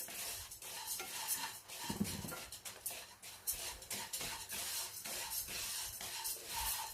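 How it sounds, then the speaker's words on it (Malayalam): Rice grains dry-roast in a heavy-bottomed pan, crackling and popping steadily while a spoon scrapes and stirs in an irregular rhythm, heard close and alone. "ഇപ്പം അരി നല്ലവണ്ണം ചൂടായി പൊട്ടാൻ തുടങ്ങിയിട്ടുണ്ട്. ഒച്ച കേൾക്കാമല്ലോ."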